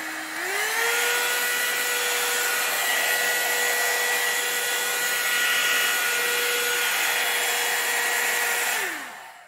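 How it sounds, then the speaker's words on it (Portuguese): A Philco hot air brush dryer on its hottest setting whirs steadily at close range, its motor tone rising as it starts and dropping as it switches off near the end. "O mesmo barulho de um secador de cabelo"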